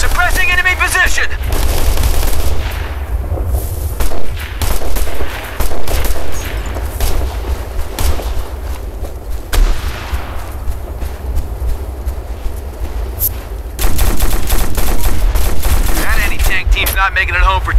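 Rapid gunfire bursts and volleys crackle loudly in the Operation Flashpoint: Red River military shooter game, with repeated rattling automatic fire and booms while voices talk over the fighting.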